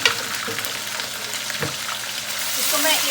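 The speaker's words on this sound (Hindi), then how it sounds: "इसको मैं 1 मिनट सिर्फ इसमें फ्राई कर दूँगी।" Green chilies, garlic and ginger fry with browned onions in a pan for a pulao, giving a steady close sizzle with small crackles and occasional stirring scrapes.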